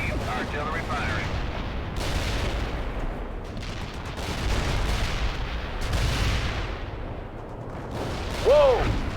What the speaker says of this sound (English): Coordinates received. Artillery firing.